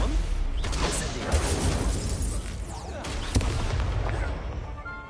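Incendio fire spells cast in the Hogwarts Legacy video game on the hardest difficulty crackle and whoosh as a loud, continuous stream of bursts and booms, with several sharp blasts layered over dense game noise.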